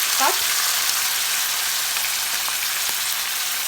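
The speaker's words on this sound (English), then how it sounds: "At this point, we're gonna add in the tomatoes, just roughly cut." Roughly cut tomatoes go into a pan of soft, translucent frying onions for butter chicken, setting off a sharp burst and then a dense, even sizzle that carries on close and loud without talk.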